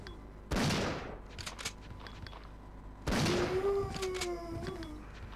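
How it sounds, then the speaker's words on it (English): Two loud shotgun blasts in the Resident Evil 3 video game land about two and a half seconds apart, each with a sharp attack and a decaying tail. Faint game sounds sit in between. "Alright, it's enough wasting shotgun ammo."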